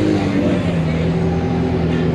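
Loud, sustained roar of Lamborghini engines revving nearby, a dense rumbling drone with no pauses.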